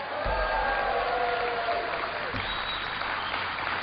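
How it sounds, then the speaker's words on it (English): A crowd in a Senate chamber breaks into sustained applause, a dense wash of clapping that holds steady for several seconds. "Give them a big round of applause."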